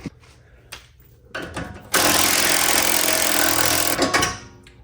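A tool works loose the lower control arm bolt on a 2015–2024 Mustang rear axle, starting with a few short knocks and then a loud, sustained mechanical rattle lasting a couple of seconds before it stops, with no one talking.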